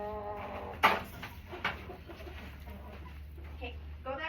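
Backyard chickens squabble in a coop, giving a sharp squawk near the start, another squawk, then scattered clucks, fairly close and moderately loud over a low background hum.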